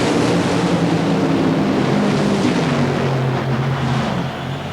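Funny car drag racers launching at a 1992 NHRA event in Topeka, including a McDonald's Oldsmobile, produce a continuous, very loud, dense engine roar that fills the whole stretch before easing slightly at the end.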